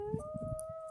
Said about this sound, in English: we can hear strange howling noises coming from inside the woods where Ethan Fares is